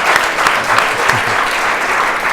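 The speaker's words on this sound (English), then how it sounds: "can we give him another round of applause just for that" A talk-show studio audience breaks into a sustained round of applause, dense steady clapping filling the whole stretch at an even, moderately loud level with no voices on top.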